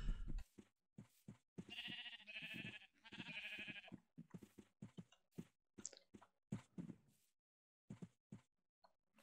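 Sheep in the video game Minecraft bleat repeatedly, two long wavering bleats followed by a string of short clipped ones, close and clear against near silence.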